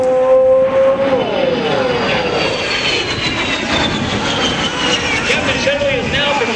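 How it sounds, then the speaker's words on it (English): An A-10 jet flies aerobatic maneuvers at an airshow, its loud engine roar and whine sweeping in pitch as it passes and climbs, while an announcer talks over it on the public address. "Captain Shetterly is now performing a classic aerobatic maneuver, the Cuban 8"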